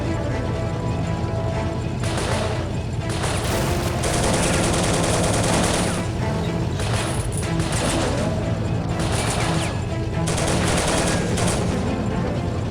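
Dense bursts of gunfire and machine-gun fire from the World War 2 strategy game Soldiers: Heroes of World War 2, loud and continuous with repeated rapid volleys and heavy impacts, fighting in a hangar area against German troops.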